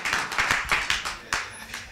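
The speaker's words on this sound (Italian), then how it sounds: "A big round of applause for Anita Cravos." Audience applause at a university film talk in New York, a short burst of irregular hand claps from a modest crowd, fairly close and bright, fading slightly toward the end.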